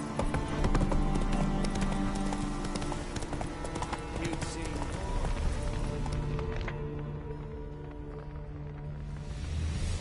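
In The Witcher 3 video game, the horse Roach gallops in a steady rapid clip-clop of hooves, loud and close, running continuously alongside game sounds and speech.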